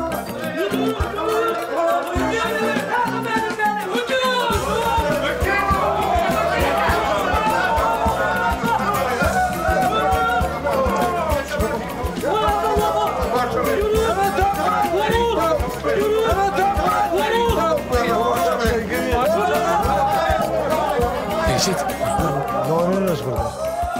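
A dense crowd chatters and murmurs all at once, many voices overlapping in a loud, continuous babble.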